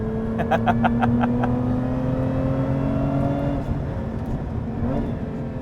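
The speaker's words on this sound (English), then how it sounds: "I think it just auto upshifted for me." Lotus Emira with a supercharged V6 and automatic gearbox pulls along a fun road, its steady engine drone stepping down in pitch as the transmission upshifts mid-drive, heard from inside the cabin.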